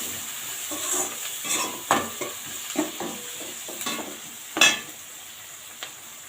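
Flat beans poriyal with tomato, turmeric and asafoetida is stirred in a frying pan, with a light sizzle beneath repeated close spoon scrapes and clinks against the pan, one sharper knock near the end, no speech.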